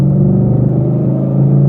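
A 2014 Mustang GT with the 5.0 V8 and performance pack rumbles loudly in fourth gear as it pulls hard, a deep, steady engine drone from inside the cabin with no talking.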